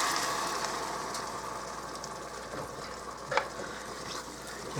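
Spoon stirring stewed tomatoes into a pot of pantry-stock chili, a soft wet churning under steady background hum, moderately quiet with one brief louder scrape near the end.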